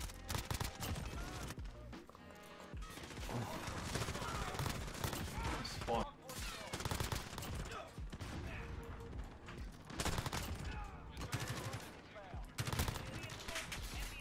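Dense, continuous gunfire from a PC shooter game fills the whole stretch, rapid bursts and single shots layered over one another, loud and close with barely a pause.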